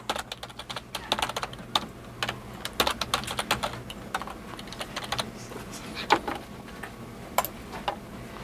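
Irregular bursts of keystrokes on a computer keyboard as a new password is typed in, clicking at an uneven pace over a quiet hum, with no talking.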